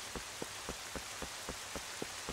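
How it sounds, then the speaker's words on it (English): Steady rain falls in The Legend of Zelda: Twilight Princess HD in a castle courtyard, a soft constant hiss broken by regular, evenly spaced drip-like taps, with no talking. "Oh, I can't light it because it's raining."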